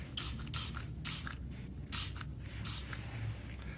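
Easy Off degreaser is sprayed onto a John Deere MT tractor in five short, sharp aerosol hisses spaced about half a second apart, close and loud, with no talking.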